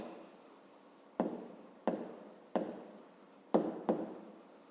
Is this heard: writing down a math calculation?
yes